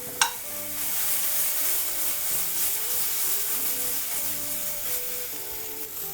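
A whole onion sears in a frying pan, giving off a steady, close sizzle and hiss with a brief sharp clink near the start and a faint tonal hum underneath.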